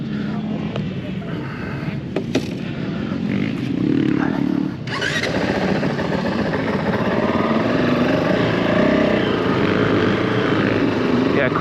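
A Honda CRF450L enduro motorcycle engine revs up and holds a loud, steady drone while riding in a quarry, close and continuous after a few sharp knocks at the start.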